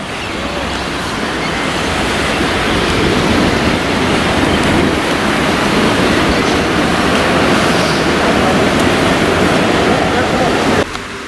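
Pacific Ocean waves at sunset on a Costa Rican beach make a loud, continuous wash of surf that holds steady throughout, with a slight drop at the very end.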